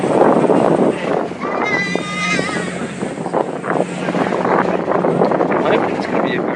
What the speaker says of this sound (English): The ferry did turn up in the end, and we're leaving Sorrento as we speak.